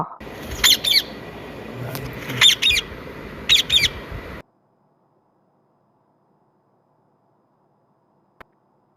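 A parrot gives three loud, harsh squawks, each a quick double or triple burst, spaced about a second apart, before the sound cuts to near silence broken by one faint click.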